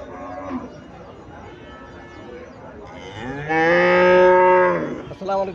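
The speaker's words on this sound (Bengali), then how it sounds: "এখানে একটা গাভী দেখা যাচ্ছে, ওই ইন্ডিয়ান হরিয়ানাজদের গাভী" A Haryana breed dairy cow gives one long, loud, close moo with a rising and falling tone, standing out against quiet background noise before a brief closing sound.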